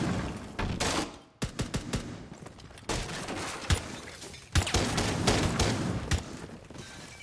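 Dense gunfire in Rainbow Six Siege while shooting out Valkyrie cameras, rapid bursts of loud automatic shots and impacts filling the whole stretch with only brief gaps.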